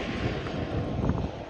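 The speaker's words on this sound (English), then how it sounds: "This helicopter's making a racket and there's lots of wind." A helicopter flying overhead near Zermatt in the Swiss Alps makes a steady rumbling drone mixed with gusting wind buffeting the microphone, moderately loud and continuous with no voices.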